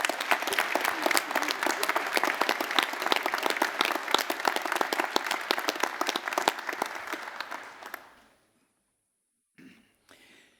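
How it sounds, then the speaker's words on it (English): Audience at a university graduation ceremony applauds steadily and loudly for about eight seconds, then the clapping stops abruptly into near silence with a couple of faint coughs or shuffles. "can we give Dr. Mahari another round of applause?"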